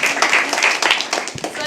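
Applause from the crowd at a live poetry open mic at the Habitat keeps going in a short stretch of scattered, uneven clapping, with a voice talking over it.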